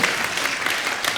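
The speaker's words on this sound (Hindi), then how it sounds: "हाँ तो वो इनके लिए जोरदार ताली हो जाए" Loud, dense applause from a studio audience on a comedy talk show fills the whole moment, steady and close with no gaps.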